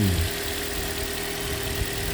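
A car engine, just started after its fuel injectors were cleaned, idles steadily at a low, even rumble, with a brief louder surge at the very start.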